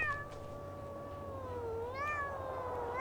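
A cat meows in a long, drawn-out, wavering cry inside an indie video game, clear and fairly close over a low steady background hum, with no one talking.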